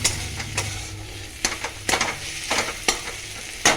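Chopped chilli frying in a pan: a steady soft sizzle runs underneath, broken by repeated sharp scraping strokes of a utensil stirring the pan every second or so, close and fairly loud.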